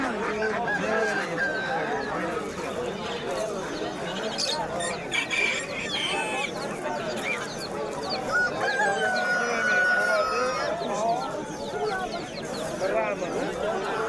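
Chickens and roosters at the Qumtepa poultry market in Margilan cluck and let out drawn-out crows amid a busy crowd, with people talking throughout.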